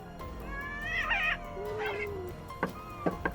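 Several cats on a Japanese cat island meow in quick succession: drawn-out, rising and falling cries up close, followed by a few shorter, sharper mews against a low background hum.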